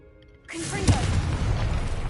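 A blasting spell goes off in Hogwarts Legacy, starting with a sudden booming onset after a quiet start, then a sharp crack, then a loud rumbling tail that holds steady to the end.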